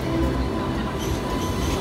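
A Sydney tram passing nearby, a continuous dense rumble of wheels on rail with a low hum, steady and fairly loud throughout the short stretch.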